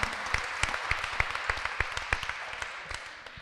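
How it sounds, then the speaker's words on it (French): A conference audience gives faint, distant applause, scattered claps with a few sharper individual ones standing out over soft room noise. "Ça s'applaudit aussi."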